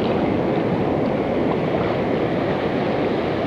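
Rough, high ocean waves break out on open water during a fishing outing, a loud, continuous wash of surf and rushing water mixed with wind noise, steady and close throughout with no voices.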